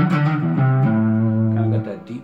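A Harley Benton CST 24 electric guitar on the rhythm pickup with distortion plays a few held notes that slide between pitches, loud and sustained before fading out.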